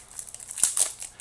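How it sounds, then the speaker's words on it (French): Packs of New Salem game cards are torn open up close, giving quick crisp tearing and crinkling sounds with a couple of sharper rips in the middle, with no talk. "je fais une super bonne job pour ouvrir les paquets de cartes"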